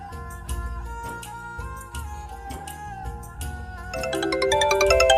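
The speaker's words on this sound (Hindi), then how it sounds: "ये तेरा फोन बज रहा है" A melodic mobile phone ringtone plays steadily, its chiming notes growing louder and brighter toward the end.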